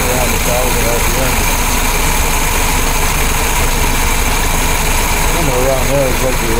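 A 1976 BMW 2002 engine with a carburetor idling around 1,000 RPM, a steady loud droning hum that holds even throughout, close by, with someone talking over it.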